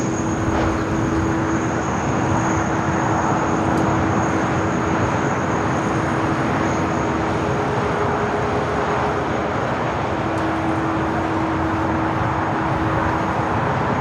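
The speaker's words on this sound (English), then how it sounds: "777 at 300ER will be taking off on 25 right" Jet airliners at LAX, including a Boeing 777-300ER and a Korean Air A380, taxi and take off, making a continuous loud, even engine roar with a steady whine on top throughout.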